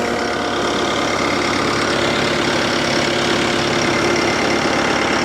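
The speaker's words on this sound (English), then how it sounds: "Got power to the pump." A diesel fuel transfer tank pump running steadily, a constant mechanical hum with a rough buzzing texture, close and unbroken throughout.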